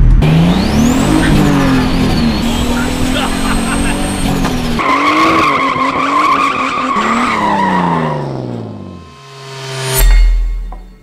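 Turbocharged BMW E46 at wide open throttle doing a burnout, engine revving hard with loud, sustained tire squeal and skidding, pitch climbing and shifting before it lets off and a final rev blips.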